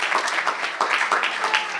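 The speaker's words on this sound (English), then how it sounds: "let's give him a round of applause" An audience at a civil rights policy forum applauds in a short, dense burst of many hands clapping together, loud and steady throughout.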